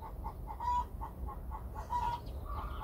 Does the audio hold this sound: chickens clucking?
yes